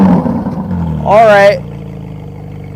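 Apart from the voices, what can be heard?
BMW car engine revving loudly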